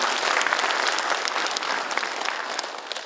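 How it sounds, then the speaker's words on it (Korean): Applause from a seated crowd at the launch ceremony of the Gyeongsangbuk-do Local Era Committee, a dense crackle of many hands clapping steadily for about three seconds, gradually easing toward the end. "박수 한번 주시죠."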